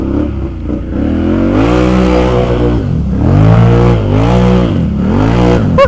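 A Can-Am Renegade ATV engine revs hard and close, its pitch climbing and dropping in several surging waves as the throttle is worked, loud throughout.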